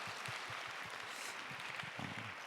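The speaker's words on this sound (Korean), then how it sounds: "우리 하나님께 영광의 박수 올려드리겠습니다" A congregation at a young adults' church service claps together in a steady, dense wash of applause, quiet and distant, with a few low thumps underneath.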